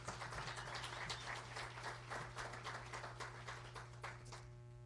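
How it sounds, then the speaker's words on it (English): Faint applause from an audience at a Super Bowl ring ceremony for replacement players, steady rapid clapping over a constant electrical hum, fading out at the end. "So that deserves a round of applause."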